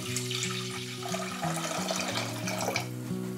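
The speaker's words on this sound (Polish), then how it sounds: "Wlewam go do garnka" Vegetable broth pours into a cooking pot in a steady, close liquid stream with a gurgling splash, running continuously for a few seconds without talk.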